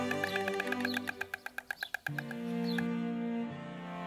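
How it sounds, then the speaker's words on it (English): Storks clap their bills during a courtship display at Lelystad nature park, a rapid run of about ten sharp, evenly spaced wooden clatters that speed up and end, followed by a sustained tonal drone. "These returning birds are strengthening their bond with their elaborate dance and bill clapping"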